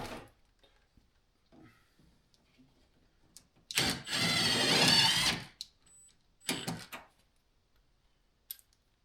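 A power drill bores into the body of a totaled Hemi Challenger: one loud burst lasting about a second and a half, then a few shorter grinding bursts, with quiet between them.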